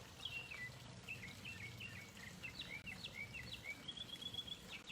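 Small birds chirp and trill repeatedly in short bright calls at moderate distance outdoors beside a swimming pool on a sunny day, over a steady low background hum and faint insect-like hiss.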